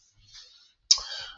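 A computer mouse clicks once in a spreadsheet program, giving a single sharp, close click after a faint soft rustle.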